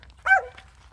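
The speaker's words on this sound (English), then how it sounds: "And I apologize for the barking." A single sharp dog bark, close and fairly loud, stands alone against a quiet indoor background.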